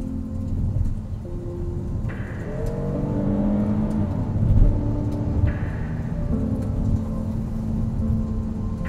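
A 2021 Kia Telluride SX AWD Nightfall Edition engine revs under hard acceleration, its steady rumble rising in pitch through a couple of climbing sweeps, heard from inside the cabin with no talking.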